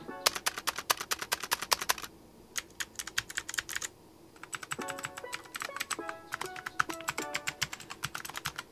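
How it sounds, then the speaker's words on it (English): Mechanical keyboard with clicky blue switches and an aluminium top, a budget Aula F2058, typed on in fast bursts of sharp, crisp clicks close up, with a short pause between runs of keystrokes. "them being blue switches, they are noisy as ever"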